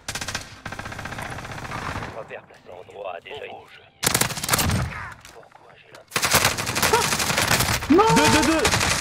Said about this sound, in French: attention, on se fait tirer dessus par l'autre côté